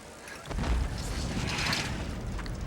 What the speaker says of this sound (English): All units, report of a possible gas explosion